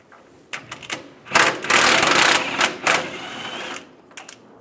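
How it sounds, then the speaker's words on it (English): A ratchet or socket wrench works a 15mm bumper bolt on a 2007-2013 Chevrolet Silverado 1500, giving a close run of rapid mechanical clicking bursts with short pauses, loudest in the middle stretch, with no talk. "Using a 15mm socket, take this bolt out."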